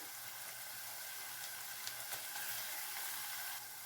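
Curry leaves dropped into hot ghee with sautéed onions hiss in a steady, bright, crackling sizzle that carries on evenly for several seconds with no voices.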